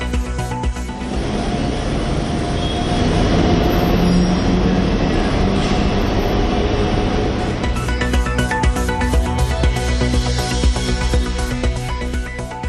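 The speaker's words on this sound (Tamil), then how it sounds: "வேளச்சேரி பரங்கிமலை இடையே பறக்கும் ரயில் சேவை தொடங்கியது." An elevated suburban train rolls past between Velachery and Parangimalai with a loud, continuous rumble and rattling wheels on the track, a metallic squeal rising midway, close by and steady throughout.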